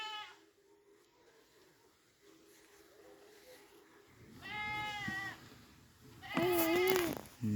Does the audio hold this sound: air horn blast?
no